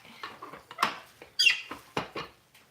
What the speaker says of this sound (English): the tortilla press kind of squeaks sometimes